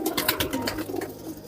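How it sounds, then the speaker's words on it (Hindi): Banarasi Ghaghra high-flyer racing pigeons cooing close by, a run of soft repeated pulsing coos with a steady background murmur. "ये बनारसी घाघरे कबूतर हाई फ्लायर्स"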